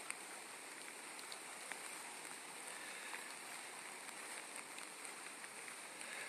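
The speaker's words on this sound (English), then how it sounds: "look at this rain." Rain falling outside: a steady, even hiss with faint scattered ticks and no pauses throughout.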